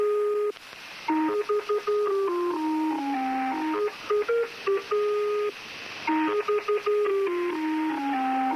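Lincolnshire Poacher numbers station tone played back from YouTube, a loud electronic melody of clear stepped beeping notes in repeating phrases, each phrase separated by short gaps, with no voices.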